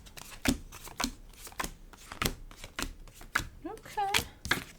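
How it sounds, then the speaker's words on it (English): Tarot cards are rough-shuffled by hand in quick, uneven bursts of riffling and slapping close to the microphone, with brief speech in between. "Rough shuffling."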